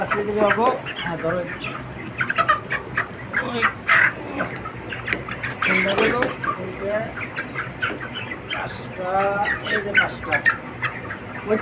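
Broiler chickens, 29 days old, cluck and call in a busy chorus on a poultry farm while someone talks over them throughout.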